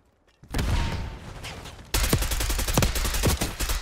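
Rapid bursts of AK rifle fire from a first-person shooter game, dense automatic shots continuing steadily through the clip and turning louder and sharper in the second half, with no talking over them.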